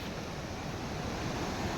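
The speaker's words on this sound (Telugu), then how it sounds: "ఎత్తిపోతల వాటర్ ఫాల్స్ చూడండి ఫ్రెండ్స్" Ethipothala waterfall in Guntur district, Andhra Pradesh, seen from above: a dense, steady roar of rushing water fills everything, broadband and unbroken, with no voices over it.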